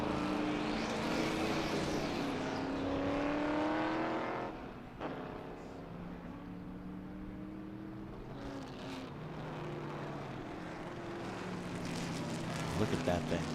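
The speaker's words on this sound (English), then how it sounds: "The sound, ladies and gentlemen, that these cars are making." Vintage race cars on the track at Sebring, engines droning and shifting pitch as they pass, mixed with a race commentator talking over the noise.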